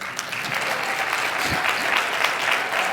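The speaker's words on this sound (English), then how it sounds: "So I will take a little round of applause for that." An audience at a seminar event applauds, a steady, dense patter of clapping filling the room for the whole stretch at moderate loudness.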